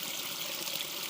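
Continuous rushing of river water during a village nature walk, a dense, steady hiss of flowing current close by with no voices over it.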